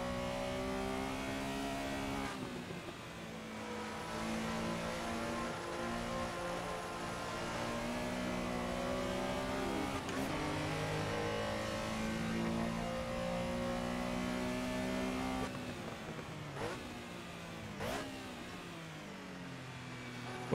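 A Porsche Carrera RSR 3.0 race car in the Assetto Corsa sim racing game revs hard through the gears, a loud, sustained engine note climbing and dropping with sharp shifts and downshift blips.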